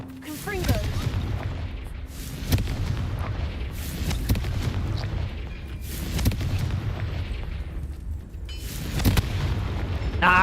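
Repeated Confringo blasting-curse explosions in Hogwarts Legacy, heavy booming bursts recurring every couple of seconds over dense rumbling game noise, with a voice shouting between them.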